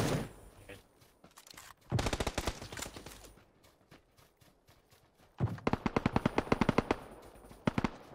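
Rapid bursts of automatic gunfire from an Uzi in PUBG on Xbox One, two long volleys of sharp rattling shots separated by a quieter gap, with a few single shots trailing at the end.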